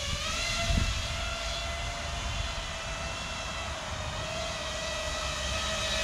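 A cinematic FPV quadcopter carrying a camera hovers nearby, a steady high-pitched whining drone of motors with a constant tonal hum, continuous and fairly loud, with no talk.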